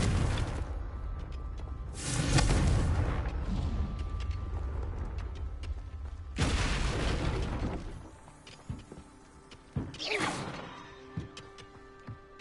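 Fiery Confringo spell blasts in Hogwarts Legacy, several separate loud bursts each with a booming crash and whooshing tail, spaced a few seconds apart amid game ambience.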